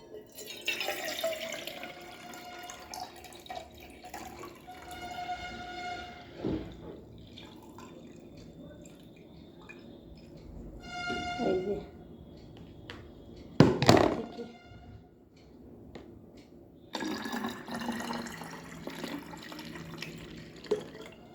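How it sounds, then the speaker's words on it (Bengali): Water pours and splashes into a kitchen container or sink in uneven bursts, with dripping and a few hollow thunks between them; close and fairly loud, with no talking. "দাঁড়াও, এই জলটা ঢেলে নিয়ে, এখানে অনেক জল, অনেকটা জল।"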